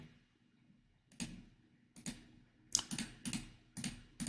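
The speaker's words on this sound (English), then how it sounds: "If you guys can hear my keyboard, I'm also clicking" Computer keyboard keys typed and clicked during JavaScript coding: a quiet stretch, then several separate bursts of crisp, close key presses at irregular intervals, with no talking.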